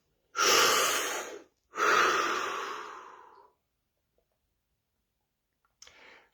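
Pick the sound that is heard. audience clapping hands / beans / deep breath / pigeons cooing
deep breath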